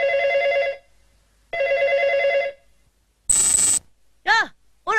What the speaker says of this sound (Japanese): じゃあみんな、電話が鳴ったら取ってくれ。